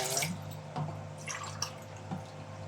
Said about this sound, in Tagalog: Lagyan naman natin ng 2 basong mineral water.